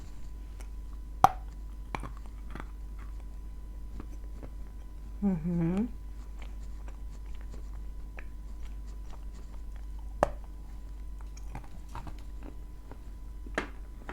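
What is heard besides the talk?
biting and chewing a thick soft homemade cookie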